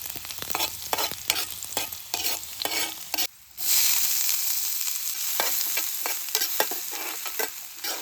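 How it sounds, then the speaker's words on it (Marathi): Chilli and garlic frying in oil at a campsite make a loud crackling sizzle with rapid stirring scrapes. A brief hush follows, then a bright, steady hiss swells as more goes into the pan. "त्याच्यामध्ये आपण तेल टाकू पहिलाच. मिरची, त्याच्यानंतर आपण लसूण वगैरे मस्त इकडे आपण भाजून घेऊ."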